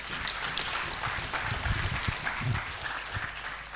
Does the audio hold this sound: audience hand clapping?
yes